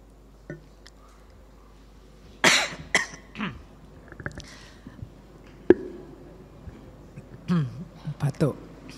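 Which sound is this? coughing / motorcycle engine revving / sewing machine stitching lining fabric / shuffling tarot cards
coughing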